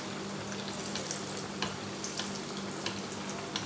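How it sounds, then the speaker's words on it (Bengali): Breadcrumb-coated banana flower cutlets fry in oil, crackling with a dense, even sizzle and scattered pops, fairly soft and close, with no talking. "এগুলো আমি এরকম লালচে করে ভেজে নেব।"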